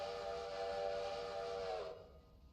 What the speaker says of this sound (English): I hear the passenger train. It's arriving into Whittier.